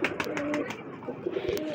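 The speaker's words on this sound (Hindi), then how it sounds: "अब ये देखें कबूतर आ रहे हैं वो खाएं पिएंगे" Pigeons arriving to feed coo softly in a quick burst of low, throaty calls, close by.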